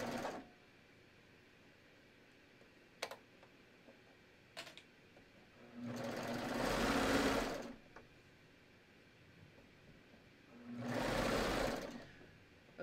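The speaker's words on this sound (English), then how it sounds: "I'm just going to keep stitching" A sewing machine stitching a tee sleeve, running in two distinct bursts of steady rapid whirring, separated by quiet pauses with a few sharp clicks, close and clear.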